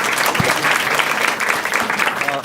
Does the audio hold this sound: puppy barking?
no